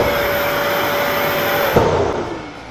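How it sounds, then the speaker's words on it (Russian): Vacuum cleaner with automatic filter-cleaning running loudly and steadily close by, a constant whirring hum with a thin whine, then a sharp knock as the filter is pulsed, after which the tone drops and softens. "вы включили пылесос, включили кнопку пробивки фильтра"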